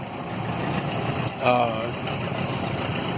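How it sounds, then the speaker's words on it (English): Busy main-road traffic in Thailand with motorcycles, a continuous engine rumble and idling drone, with one vehicle passing a little closer midway. "There is a lot of traffic over here on this one road, the main road."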